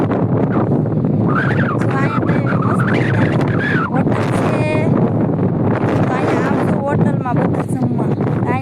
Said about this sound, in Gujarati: બહુ પવન છે અહીંયા